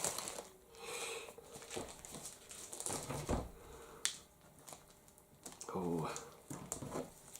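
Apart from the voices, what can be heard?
peeling blue tape off a book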